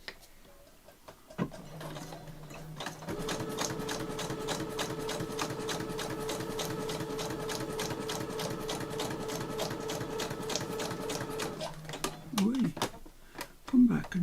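A sewing machine stitches down the middle of a sheet of paper, starting with a short burst, then running in a fast, steady mechanical chatter for about nine seconds before slowing and stopping, fairly quiet.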